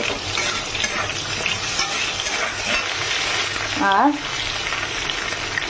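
Ginger and radhuni paste frying in a hot pan, a steady broadband sizzle throughout with a brief voice over it near the end.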